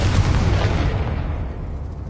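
A Confringo spell explodes in Hogwarts Legacy, a loud deep rumbling blast that is already underway and slowly decays with a low, booming tail.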